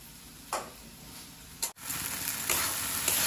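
Spice masala sautéing in a pan, a close sizzle broken by a few stirring scrapes and a brief pause before the frying swells louder again.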